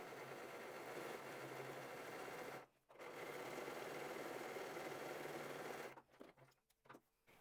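A sewing machine runs steadily, stitching lace trim onto lingerie fabric, with a brief pause midway and a stop-start stutter near the end; no voices.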